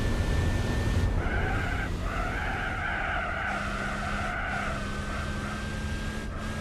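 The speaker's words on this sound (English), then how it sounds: "What a weird sounding engine." A high, whining race car engine in Gran Turismo 4 holds a steady note with tire skids and squeals mixed in, continuous and fairly loud, with no talking.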